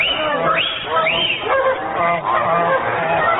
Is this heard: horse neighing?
no